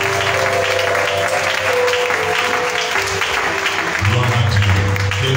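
A church congregation applauding in worship, with sustained, loud clapping from a full room, cheering voices mixed in, and a swell of sound toward the end.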